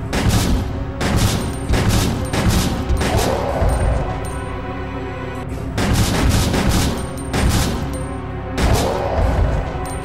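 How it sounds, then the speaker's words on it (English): Gold Luger pistols fire in the video game Resident Evil Survivor 2: Code Veronica, a steady run of loud, booming shots in quick succession with a few short gaps, set against game noise and with no speech. "let's go ahead and test these Gold Lugers on that one Bandersnatch"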